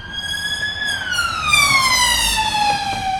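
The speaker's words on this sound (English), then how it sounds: "There's a police car coming." A police car siren wails loudly and close by, its tone sweeping steadily downward as the vehicle passes, with road noise underneath and no talking.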